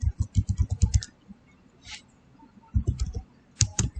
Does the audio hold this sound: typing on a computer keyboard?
yes